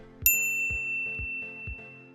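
A single bright notification bell dings once and rings out in a long clear tone over a steady low rhythmic pulsing music bed, with no voices.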